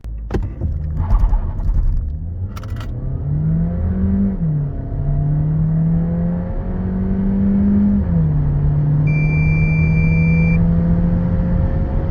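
A 2025 Skoda Superb Combi accelerates hard from 0 to 100 km/h, its engine note climbing steadily in pitch with a brief dip at a gear change. The sound is loud and continuous from inside the car, with no talking.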